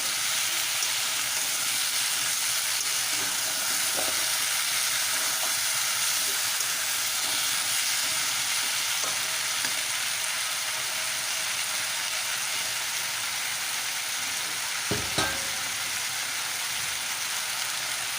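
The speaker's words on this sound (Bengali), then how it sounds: "ভালো করে একটু নেড়ে চেড়ে দেবো।" Drumstick curry (sajina data rosa) simmering and sizzling in a pan, a soft steady hiss with occasional faint knocks of a spoon stirring and one sharper clatter late on, moderately quiet, without speech.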